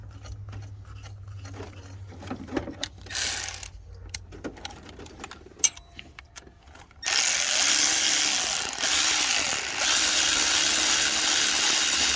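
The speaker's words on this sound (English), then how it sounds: "So we got to torque down these bolts to 21 foot-pounds." Thermostat housing bolts being tightened on a 2014 Dodge Challenger 5.7L Hemi, with sharp metallic clicks and tool clatter, then a loud sustained rattling whir of a power tool running steadily.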